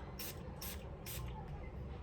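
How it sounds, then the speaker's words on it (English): Azzaro pour homme perfume sprayed onto the back of a hand in three quick hissing bursts, close and fairly loud, with a faint steady background afterward. "Let's spray a bit on the back of my hand just to remind myself."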